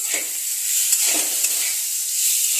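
A spoon stirs a chickpea and papaya curry in a pan, giving soft scraping strokes over a steady close hiss of frying, with no voices.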